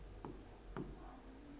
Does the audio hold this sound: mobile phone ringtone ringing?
no